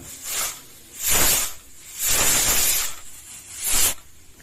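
Pressure cooker on a medium flame whistling as chickpeas cook for festival usli, four sharp hissing bursts in a steady rhythm, close and loud, with quieter steam hiss between them and no talking.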